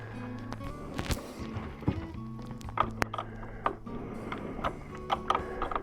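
A ratchet tightens a 1/2 inch nut onto a battery terminal while installing a Noco battery charger's negative lead, producing scattered metallic clicks and short ratcheting bursts, close and moderately quiet, with pauses between strokes.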